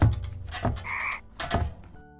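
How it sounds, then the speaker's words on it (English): Frogs croaking in a short burst of deep, throaty croaks, close and clear, with no voices. "The youngest son found himself in a room filled with frogs."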